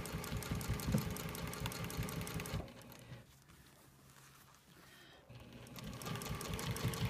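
A sewing machine stitches around an appliqué shape on a quilt, its needle running in a steady fast patter, pausing briefly mid-run before resuming at full speed, close and loud with no talking.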